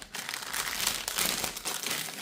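Packaging of a Temu LX-D2 mini printer is handled and opened, with continuous close crinkling and rustling of plastic and paper wrap, loudening and softening in uneven bursts.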